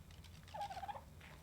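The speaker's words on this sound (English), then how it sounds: "A lot of bird noises." Turkey-like gobbling from birds in the survival video game Lost Island, a short warbling burst heard once over low background rumble.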